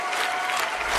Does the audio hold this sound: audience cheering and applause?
yes